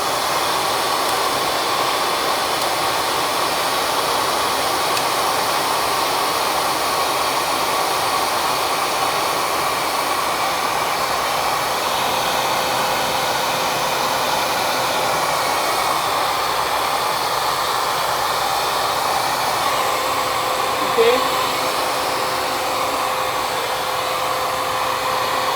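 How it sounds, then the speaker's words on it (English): Handheld hair dryer blowing on blonde hair, a loud, steady whooshing hum that runs unbroken for the whole stretch, close up, with no talking. "We blow dry it."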